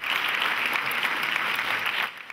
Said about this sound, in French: Les Indiens ont été généreusement applaudis pour cette entrée en matière